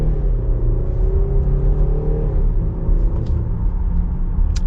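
A 2021 Jeep Grand Cherokee Overland V6 accelerates hard, its deep engine rumble rising in pitch and then dropping with quick gear shifts, heard steadily from inside the cabin.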